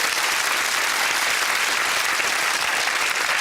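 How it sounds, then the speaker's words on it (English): Steady, dense clapping from a studio audience on the UK TV game show Whittle, welcoming a contestant, evenly loud from start to finish with no voices breaking through. "Let's hear it for Karen."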